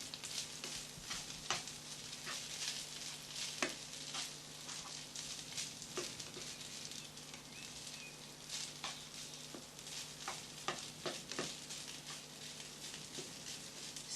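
King prawns in sweet and sour sauce are stirred and fried in a pan, giving a soft continuous sizzle broken by frequent small clicks and scrapes from the stirring, fairly quiet and with no voices.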